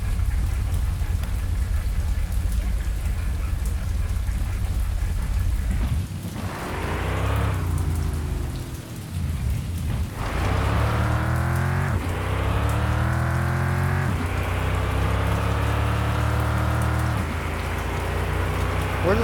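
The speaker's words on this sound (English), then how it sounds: "It's raining." Steady, loud rain patters on a car in the video game Mon Bazou, a continuous hiss with low rumbling and rising tonal sweeps running through it.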